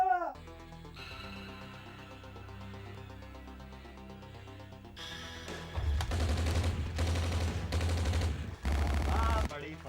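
Heavy gunfire in a comedy drama scene erupts in the second half as loud, dense bursts separated by short gaps, following quieter tonal sounds at the start.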